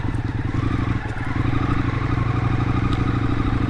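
An FTR x RSD Super Hooligan motorcycle being ridden, its engine giving a steady, throbbing low rumble with rapid pulses, a brief dip near the one-second mark, with faint rattling over the top.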